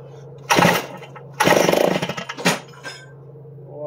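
A brand-new, never-run 60-year-old small engine catches on choke. It fires in a short burst, then a longer sputtering run that falters, and one more brief pop, each separated by quiet gaps.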